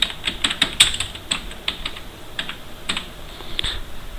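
Fingers type on a computer keyboard in quick, uneven bursts of close, crisp key clicks with brief pauses between words.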